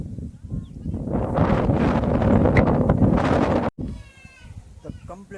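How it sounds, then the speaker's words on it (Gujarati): Strong wind roars and buffets the microphone for several seconds, then drops off abruptly, followed by quieter gusts and faint bleating in the distance. "હવે પવન એ ગજબનો આવે છે"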